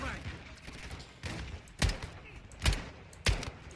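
Sniper rifle shots in the video game Call of Duty: Modern Warfare II, three booming shots spaced under a second apart over game noise, with a player talking throughout.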